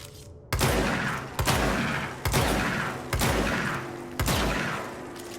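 The service weapon fires in the video game Control, five heavy booming shots spaced about a second apart, each with a sharp crack and a decaying rumble.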